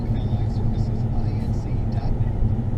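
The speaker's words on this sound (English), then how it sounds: "we're taking a trip in the car" Steady road rumble inside a moving car on a trip, a low continuous drone with engine hum, under light background sounds.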